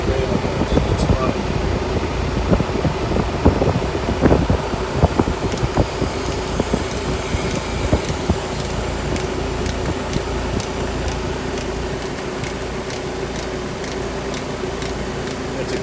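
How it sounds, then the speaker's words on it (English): A 2013 refrigeration compressor in a Leer L100 ice merchandiser at a grocery store runs with a steady mechanical hum and airy fan-like rush, overlaid at first by bursts of clattering and then by sharp intermittent ticks. "It's a 2013 compressor. Yeah, it's just pumping right on that sweet spot."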